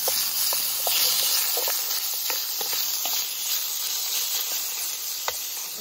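Big campfire roaring in the open while cooking pea soup at a survival camp, a steady crackling hiss with scattered sharp pops and snaps, close and continuous, with no voices.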